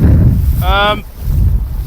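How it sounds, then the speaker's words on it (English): Strong beach wind buffets the microphone with a loud, low rumbling roar, briefly interrupted by a short whistling tone. "Gosh, windy."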